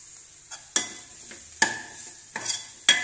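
Onion-and-masala base for a Tamil egg gravy sautéing in oil, with four sharp scraping stirs of a spatula cutting through a light, steady sizzle; no voices.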